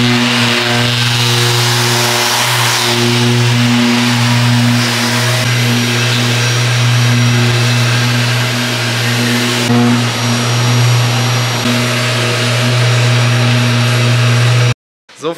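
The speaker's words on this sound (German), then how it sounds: "das ganze Auto wird jetzt komplett durchgeschliffen, glatt geschliffen" A power sander smooths the body of a Cobra car down to a flat finish, a loud, steady motorized whine with a constant hum, running continuously until it suddenly cuts off near the end.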